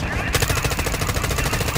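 In a helicopter combat video game, rapid automatic gunfire sounds as shots are fired at an enemy helicopter. The burst is loud and continuous, with dense repeated shots over a short span.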